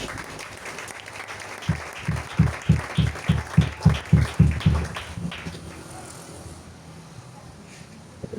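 A church congregation claps in acclaim during a Pentecost service, a rhythmic run of loud, roomy beats that swells for a few seconds and then fades into a general wash of applause and crowd murmur.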